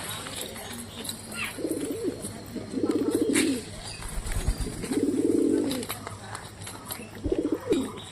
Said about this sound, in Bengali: দেখো পায়রার বাজি কত সুন্দর বাজি মারছে দেখো